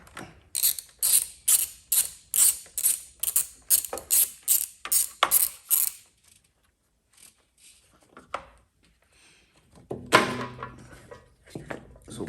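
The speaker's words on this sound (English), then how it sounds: "Next is your terminal lugs. It's a 10mm socket." A ratchet with a 10mm socket loosens the battery terminal lugs on a Sport Chief, with about a dozen quick, evenly spaced clicking bursts up close, then sparse taps and a final clattering rattle.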